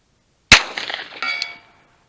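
A single sharp, loud report from a pistol fitted with a Strike Industries micro threaded compensator, firing Super Vel 147 grain ammo, sounds after silence and is followed by a short scatter of metallic clinks.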